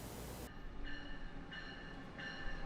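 A train runs faint and distant on a railway in the United States, three separate high tonal squeals or horn-like notes rising over a low steady rumble.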